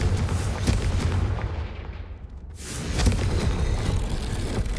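Confringo blasting spell in Hogwarts Legacy: loud, dense rumbling blasts and booms that fade into a brief drop, then swell again into a sustained, roaring explosion.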